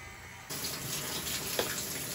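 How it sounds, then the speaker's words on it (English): A household tap is turned on and runs steadily to get the water hot, a continuous rushing gush that starts abruptly and stays close and even. "So we got the water going"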